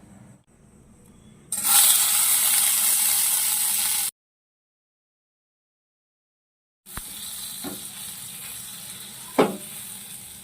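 Butter sizzles loudly in a hot pan ready for frying paneer, a close hiss that stops abruptly, then returns more softly after a silent gap with a few scraping clicks.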